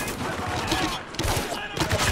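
A steady stream of gunfire in the Spec Ops: The Line video game, overlapping shots in a loud, continuous firefight.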